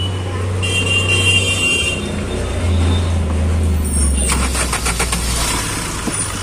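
A Tata Bolt hatchback with an earthing fault after an accident starts up, its engine catching and settling into a steady low idle that runs throughout, with a brief horn-like tone and people talking nearby.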